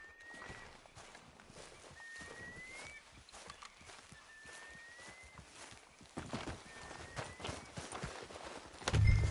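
Horse hooves clip-clop at a steady walking pace in Red Dead Redemption 2, with repeated soft, close thuds under faint ambient outdoor sound, growing slightly louder toward the end.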